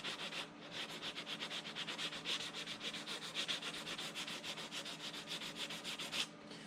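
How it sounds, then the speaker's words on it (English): Steady rhythmic back-and-forth rasping of 180 grit sandpaper on a plastic model starship kit, close and continuous with quick even strokes, no voices. "I like using this 180 grit paper here off the bat because it takes it down real quick"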